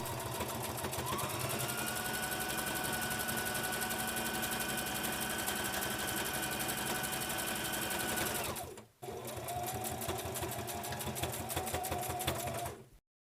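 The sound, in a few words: sewing machine stitching fabric mask flap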